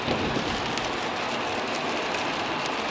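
Steady rain falls on a surface near a tower on a wet day, an even, dense hiss with scattered sharper drops and no voices.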